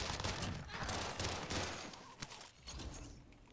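Rapid bursts of gunfire in Call of Duty Warzone Plunder crackle in quick succession, loud and dense, with a short pause near the end before shots resume.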